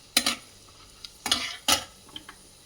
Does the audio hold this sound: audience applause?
no